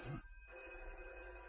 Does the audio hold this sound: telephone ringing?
yes